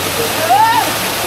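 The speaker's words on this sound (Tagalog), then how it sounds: "Enjoy namin ng konti itong falls dito na maganda." A waterfall at Sapang Uwak in Porac, Pampanga pours as a steady, close, broadband rush, with a brief high whistle-like tone rising over it midway.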